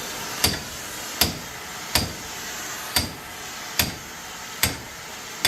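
Sharp metallic hammer strikes on a vise land in a steady rhythm, about one blow every second, close and clear with a low background hum.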